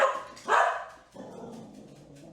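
A dog barks twice in quick succession, close and loud, and a quieter, murmuring background follows.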